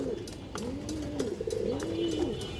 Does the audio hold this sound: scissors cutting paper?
no